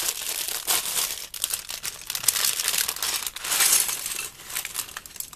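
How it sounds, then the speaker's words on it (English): Plastic Lego packaging for set 21241, The Bee Cottage, crinkles and rustles close by in irregular bursts of crackling, with no talking. "this crinkly sound is getting on my nerves"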